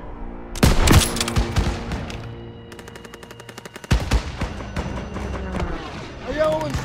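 Call of Duty WW2 battle gunfire: rapid machine-gun bursts and single rifle shots rattling close and loud, with short pauses, amid shouted voices and battlefield clatter.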